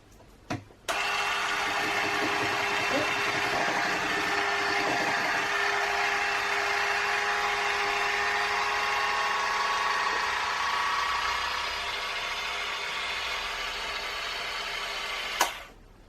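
An electric mixer beats gluten-free chocolate cake batter in a bowl. It gives a loud, steady motor whir that starts abruptly, runs unbroken for about fourteen seconds with faint clatter early on, then cuts off.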